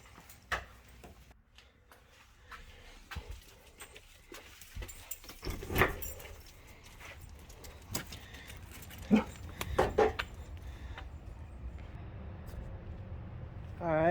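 Dogs whimper and pant close by as they're led outside, with scattered shuffling and jingling, and a drawn-out, wavering whine rising near the end.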